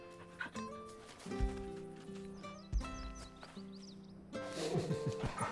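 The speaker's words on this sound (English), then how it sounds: "I'm gonna pet the dog for you" Dog in Final Fantasy XVI being petted, whining and giving a few short barks over game music and footstep sounds, moderately loud and close.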